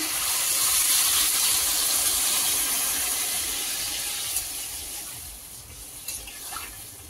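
Water poured into a hot pan to make a thin tilapia fish curry broth with potato and drumstick stalks, a steady loud rushing hiss that slowly fades, with a few faint clinks near the end.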